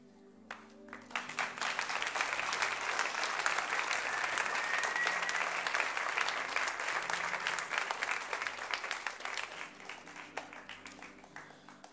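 A church congregation claps warmly after a closing prayer at a Dutch service, a dense, steady applause that swells within the first second, holds for about ten seconds, then thins out.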